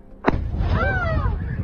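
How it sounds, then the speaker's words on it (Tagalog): A drone strike on a Russian target in the Ukraine war: one loud, sharp explosion bursts near the start, followed by a sustained rumbling wash with a whistling, wavering tone over it. "Sabay narinig ang malakas na pagsabog at pag-angat ng usok."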